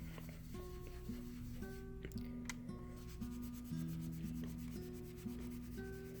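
Cloth rubs in tight little circles over a polymer clay cabochon, a soft, steady scrubbing swish repeating close and faint, with a few light taps midway.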